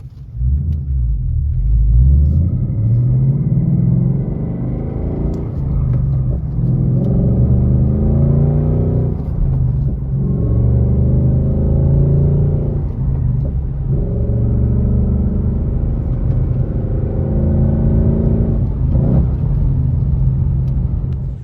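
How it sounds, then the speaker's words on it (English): A 2024 Ford Mustang Dark Horse engine rumbles loudly and steadily on a country road, rising in pitch as it accelerates, with brief dips where it shifts between gears. "we're going to go through the gears on this country road"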